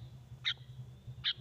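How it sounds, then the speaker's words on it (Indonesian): A caged bird about to be released gives two brief, high-pitched calls spaced nearly a second apart over a faint low background hum. "Burung ini udah rajin bunyi, tapi harus diikhlaskan untuk dilepas."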